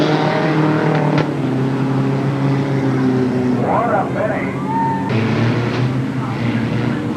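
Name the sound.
mini stock race cars in a heat race at speedway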